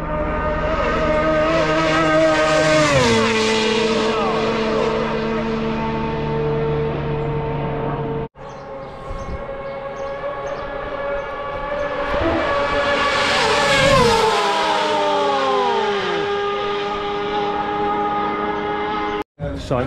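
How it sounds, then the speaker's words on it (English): Isle of Man TT sidecar racing outfits roaring past, loud high-revving engines that sweep up and fall away in two strong passes with pitch dropping as each goes by. "I think it might even get more mental, sidecars. Listen to it."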